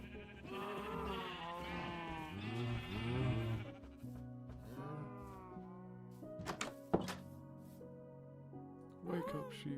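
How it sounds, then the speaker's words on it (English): Sheep bleating in the video game Minecraft, several wavering calls in the first half over game sounds and music, with a few sharp thuds near the end. "What's up, you goddamn sheep?"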